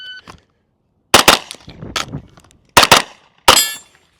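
Loud, sharp rifle shots crack close by during a reload drill fired on the move. They come in quick pairs and singles separated by brief pauses, with no voices.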